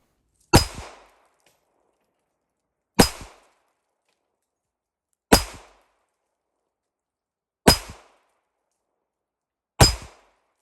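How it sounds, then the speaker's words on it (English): Five sharp metallic shots of .380 ACP and .32 ACP pistol rounds striking a steel target, each a loud ringing clang with a short decay, evenly spaced about two seconds apart with silence between. "and then the 380 hitting the top part of the target"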